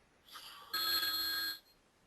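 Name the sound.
telephone ringing with incoming call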